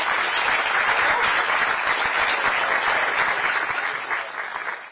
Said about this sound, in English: Let's give a round of applause for the three of them.